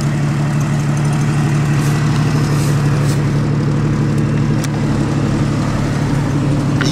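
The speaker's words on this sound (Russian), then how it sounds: "Какая вот машина у нас по грязи." Car engine driving through mud, a steady loud low engine drone with continuous rumbling and occasional knocks, no talk heard.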